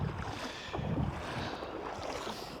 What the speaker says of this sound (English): You're going to hear the water again as I walk through it.